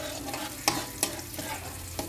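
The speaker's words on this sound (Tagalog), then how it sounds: "Malambutin na lang natin ng kunti yung ating sibuyas." Onions and garlic sautéing in a pan for egg curry, a steady close sizzle with a few sharp stirring scrapes, no voices over it.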